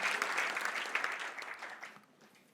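A church congregation applauds, a dense close burst of clapping that gradually fades over a couple of seconds, with no talking.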